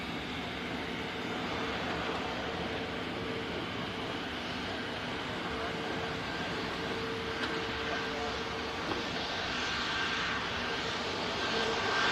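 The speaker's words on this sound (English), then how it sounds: "Just catch this Ryanair vacating" A Ryanair airliner vacating the runway at Manchester Airport, heard as a steady, distant engine roar that stays fairly faint and even throughout, with a slight swell near the end.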